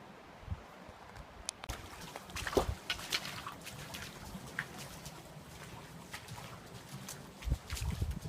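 A stream flows through Coyote Gulch near Escalante, Utah, making a faint, steady trickle with a few soft splashes and some light wind.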